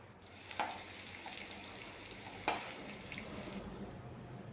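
Soft, steady sizzling of mixture snacks frying in oil in small batches, with a couple of faint clinks or stirs, fairly quiet throughout.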